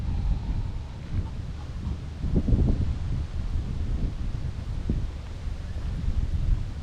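Strong wind blows beside the Strait of Johor at a seaside park, a steady low roar of gusts buffeting the microphone with faint rustling underneath.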